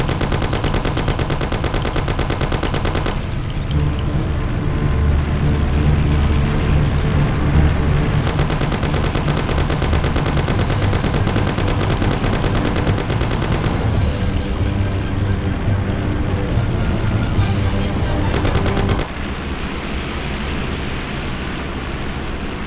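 Sustained gunfire and machine-gun bursts in the Mafia video game, loud and dense for about nineteen seconds over a heavy rumbling backdrop, then cutting out abruptly.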